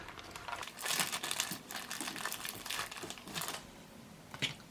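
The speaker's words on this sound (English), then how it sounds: "we're gonna take this chicken out of its bag" A whole raw chicken being pulled out of its plastic bag, giving bursts of loud, close crinkling and rustling plastic in uneven waves, with no talking.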